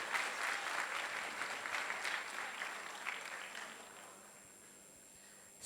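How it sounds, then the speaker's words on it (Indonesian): An indoor audience claps at the closing ceremony of a data hackathon, a moderate round of applause that starts full and gradually thins out and fades to near quiet by the end. "boleh tepuk tangannya."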